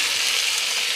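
Fatty old mutton pieces sizzle steadily in a frying pan, a dense, even crackle held close and unbroken for a moment with no voices.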